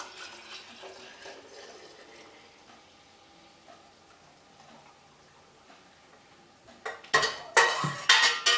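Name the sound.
pouring yogurt into a jar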